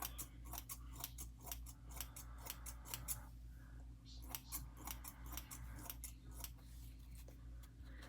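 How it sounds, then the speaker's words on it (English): Scissors snip repeatedly through a reborn doll's hair, giving a close series of crisp, irregular cuts over a low steady hum. "Pull this out from her head a little bit so I can cut this a little bit across."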